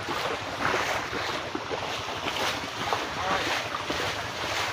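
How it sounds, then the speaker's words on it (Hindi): Continuous rushing water and splashing with wind noise, a steady churning wash close by, like a boat moving through water, at the Bisalpur fair. "मुझसे ज़्यादा आपको पानी की छप छप की आवाज़ आ रही होगी"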